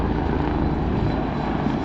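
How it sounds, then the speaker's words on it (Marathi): A helicopter flies below a mountain trail on the Amarnath Yatra route, a steady low engine and rotor drone that stays constant throughout. "हे बघा हेलिकॉप्टर पण खालून चाललं आहे."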